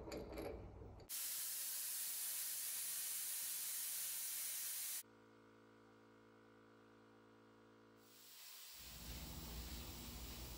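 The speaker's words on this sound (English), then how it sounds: "So I'm starting to get the hang of this plasma cutter thing." Plasma cutter slicing quarter-inch steel plate, a loud steady hissing roar for about four seconds that cuts off to a quiet electrical hum, then a second hiss rises toward the end.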